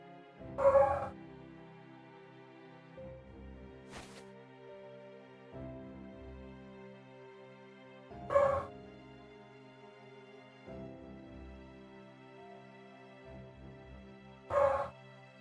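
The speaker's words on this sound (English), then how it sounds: "The dogs are barking." Dogs bark in three separate short bursts spaced several seconds apart, at moderate distance, over a quiet background with a faint steady tonal hum.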